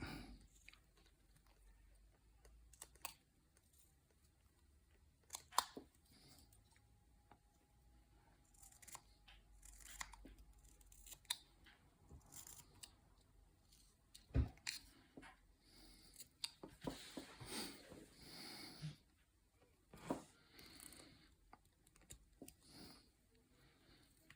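A knife whittles a 1x1x4 basswood stick into a Roman soldier figure, cleaning up rough cuts on the helmet. The quiet, close scraping and clicking cuts come in scattered, irregular bursts over a faint background.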